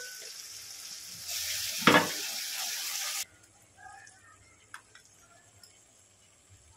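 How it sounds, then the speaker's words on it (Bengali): Spice masala frying in a pan for matar paneer, a hissing sizzle for about three seconds with a brief louder burst, then dropping away to faint clinks and quiet. "দিয়ে আবারও ভালো করে মশলাটা কষিয়ে নেব"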